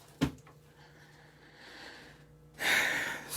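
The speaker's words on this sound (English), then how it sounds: "That was one of my cats up in my ceiling" Thumping and scrabbling from a cat moving around up inside a house ceiling, with a sharp knock near the start, then faint rustling and a louder broadband scratching burst at the end.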